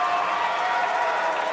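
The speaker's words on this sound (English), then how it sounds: "The crowd go wild." A crowd cheers loudly at a wheelchair curling semi-final between Korea and Canada in Milano, a dense, sustained roar of voices and clapping that holds steady throughout.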